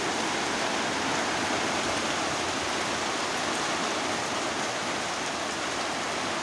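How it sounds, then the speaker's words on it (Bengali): Steady, heavy rainfall with a dense, even hiss and no pauses, no voices. "বন্ধুরা দেখো বাড়িতে এসে কি বৃষ্টি কি সুন্দর বৃষ্টি"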